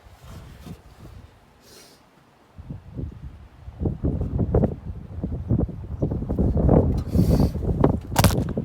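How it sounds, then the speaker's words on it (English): Outdoor wind buffets the microphone in gusty, rumbling bursts near a 1968 Mustang being worked on after sitting eight years, growing louder and rougher toward the end with rustling noise. "Wind blew my camera over, sorry about that guys."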